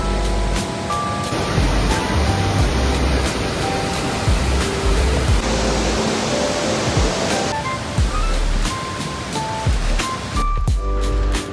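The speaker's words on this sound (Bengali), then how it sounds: "বর্ষায় জলপ্রপাতটা দারুণ লাগছে, আর জলও প্রচণ্ড, ভয় লেগে যাবে।" A monsoon-swollen waterfall on a Ranchi road trip pours with a dense, unbroken roar that is loud and close and holds steady without pause.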